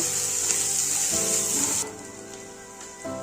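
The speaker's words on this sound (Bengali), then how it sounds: "পেঁয়াজটাকে একটু লাল লাল করে ভেজে নেব।" Chopped onion frying in a pan with black cumin and curry leaves, a steady close sizzle for the first half that drops to a quieter simmer, with a few faint scrapes near the end.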